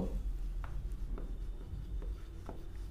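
Marker or chalk writing on a classroom board during a math lecture, with soft scratchy strokes and taps coming in short bursts over a low background hum, close and fairly quiet.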